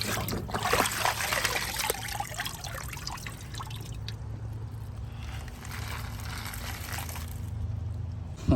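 Water trickles and drips steadily from a tub used to rinse live crawfish, a continuous close splashing dribble of muddy rinse water with a low hum beneath.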